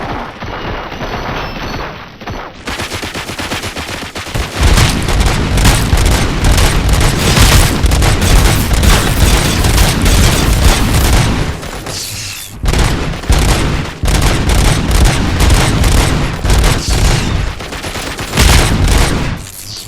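Gunfire from the video game RoboCop: Rogue City: a short quieter lead-in gives way to loud, dense bursts of shots and booms, with rapid automatic fire and a brief lull around the middle before the barrage resumes.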